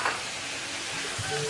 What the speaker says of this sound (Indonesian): Kita akan aduk-aduk. Kalau bumbunya sudah tercampur rata dan sudah wangi Flavis, baru di sini kita akan masukkan ayam yang sudah tadi kita goreng.